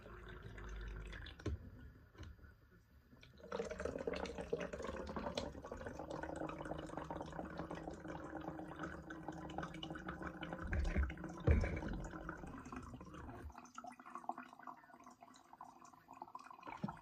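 Liquid pours into a container in a quiet room, a steady faint trickling and splashing stream lasting about ten seconds before it stops, with a few soft drips after.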